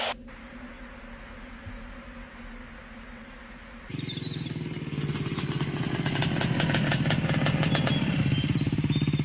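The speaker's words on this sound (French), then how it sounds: "Il est à moto sur un terrain accidenté." Motorcycle riding over rough terrain in a French-dubbed action film: after a quiet stretch with a low hum, the engine bursts in loud and near, revving with a rapid rattling roar and clattering over the uneven ground.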